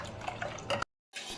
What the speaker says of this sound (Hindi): इसमें आधा लीटर पानी डाल रही हूँ